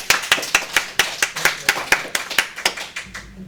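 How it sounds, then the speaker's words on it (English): Evenly spaced, crisp claps ring out after a community panel discussion, sounding like a few hands clapping in a steady rhythm, close and clear, stopping after about three seconds. "let's give a round of applause to the speakers"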